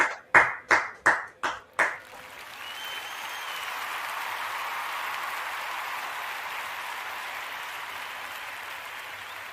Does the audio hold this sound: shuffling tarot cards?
no